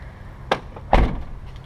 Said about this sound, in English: let's go ahead and close the rear door. It's a solid closure.